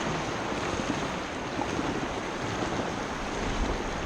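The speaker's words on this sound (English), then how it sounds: "Okay, my first set of rapids." Whitewater rapids on a river between Casper, Wyoming and North Platte, Nebraska rush and churn around an amphibious quad, a loud, steady roar of broadband water noise with wind buffeting the microphone and no talking.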